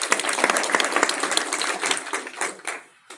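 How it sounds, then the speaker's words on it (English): Audience at a live wealth-building event applauds, a dense burst of many hands clapping that holds steady for about three seconds, then thins and fades out. "Give her a round of applause."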